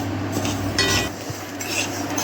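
Mustard seeds dry-roasting in a pan, stirred with a utensil that makes soft scraping and rattling sounds over a continuous low hum, close and steady.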